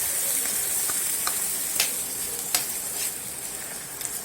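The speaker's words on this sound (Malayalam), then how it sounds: "നല്ലോണം മിക്സ് ചെയ്ത് കൊടുക്കാം." Drumstick leaf paste with red chilli flakes sizzles steadily in a pan, a continuous bright hiss broken by a few soft scrapes of stirring.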